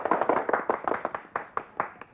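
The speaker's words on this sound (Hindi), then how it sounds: "तालियां!" Applause from a small crowd gathered in an Indian village, a scattered burst of hand claps that thins out into a few separate claps, heard alone and fairly close.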